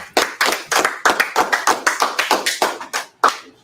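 Rhythmic clapping from a small religious gathering, about fifteen crisp, close hand claps in a fairly steady beat, loud and dry with no talk over them.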